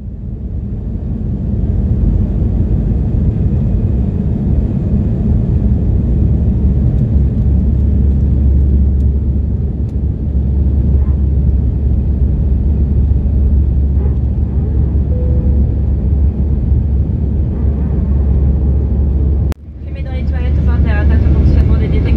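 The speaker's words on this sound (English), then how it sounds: "Feeling right at home in this Airbus A320. We are currently on the taxiway, taxiing, about to hop onto the runway for takeoff." Inside the cabin of an Air France Airbus A320 taxiing toward the runway, a loud, continuous low rumble and engine drone hold steady, then shift near the end as the noise rises.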